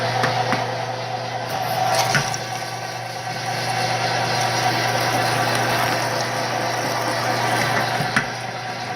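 Electric meat grinder grinding venison for hamburger, a steady motor hum with a constant low drone running throughout, plus a few faint knocks and clicks, with no talking.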